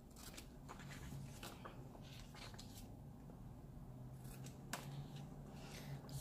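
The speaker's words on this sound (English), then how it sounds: "let me cut off the excess on each of these pages" Scissors trimming the excess paper off the edges of gratitude planner pages, a run of soft, close crisp snips and rustles at low level with no talking.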